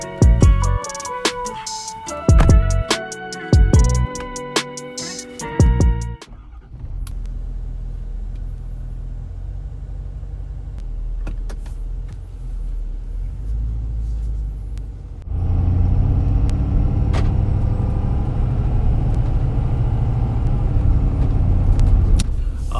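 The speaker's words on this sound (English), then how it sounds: "I do notice more turbo noise. I can definitely hear it." 2017 Ford 6.7 Powerstroke truck with a stage 2 aftermarket air intake driving, a loud low diesel rumble with a faint turbo whistle on top, a steadier cruising stretch, then heavier acceleration building near and continuous.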